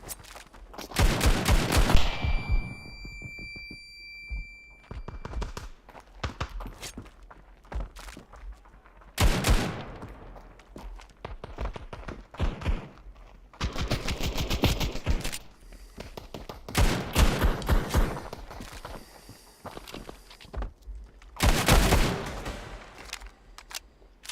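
Desert Eagle pistol fire in the mobile shooter Standoff 2 cracks out in sharp, loud bursts of several rapid shots, spaced by short quiet gaps, with no talking.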